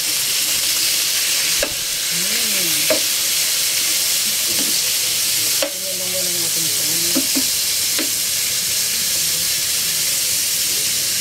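Chicken pieces sizzling in a pan with garlic, onion and ginger for home-cooked tinolang manok, a loud continuous hiss with occasional stirring scrapes and spatula knocks.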